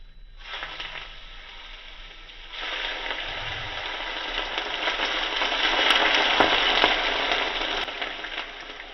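Hot sesame oil poured over sesame seeds, soy sauce and spring onions, a broad hissing sizzle that jumps louder partway through and keeps building steadily.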